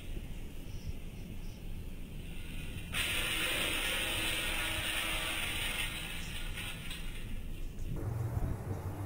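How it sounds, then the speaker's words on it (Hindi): Puffed rice pours into a big mixing bowl in one continuous rustling, hissing stream that lasts several seconds before tapering off, close and fairly quiet, with no talking. "तो हम इसमें डालेंगे अब मुरमुरे"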